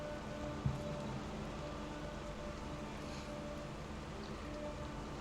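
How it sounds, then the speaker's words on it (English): Steady rain falls during a tabletop fantasy game session, a soft continuous patter of drops with one brief knock near the start, no voices over it. "The rain picks up."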